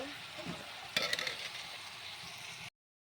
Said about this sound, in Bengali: এখানে আমি এই চামচটা 3 চামচ মতো চিনি দিয়ে দেবো। দিয়ে এটা আরও কিছুক্ষণ ফুটিয়ে নেব।